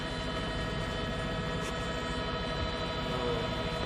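A police helicopter hovers overhead during a Houston chase, giving a steady, continuous rotor and engine drone with a constant hum throughout and no talk.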